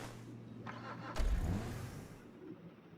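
A car engine starts for a test drive, with a soft hum, then a sudden cranking burst that catches into a low rumble before settling, all fairly faint.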